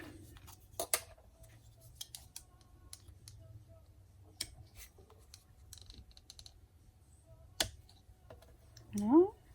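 Scissors snipping paper for a handmade mini album, a single quick cut near the end after soft tapping and handling noises at a quiet craft table.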